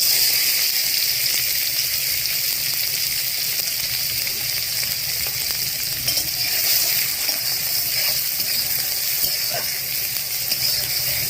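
Onions hit hot oil while a duck egg kosha is being cooked, producing a steady, fairly loud frying hiss that carries on without a break and without any voices.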